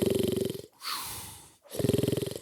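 A storyteller imitates snoring with his voice: a rumbling, rattling inhale, a breathy whistling exhale, then another rattling inhale, loud and close.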